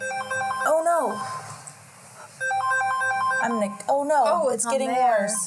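Mobile phone ringtone playing a loud repeating electronic melody in bursts, with a person talking over it partway through.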